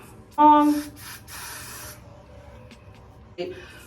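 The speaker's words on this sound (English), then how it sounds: "We're just going to lightly spray along that hairline and all that." A short hiss of spray along a synthetic wig's hairline near the mic, followed by a quieter, longer spritz, with a faint second puff at the end.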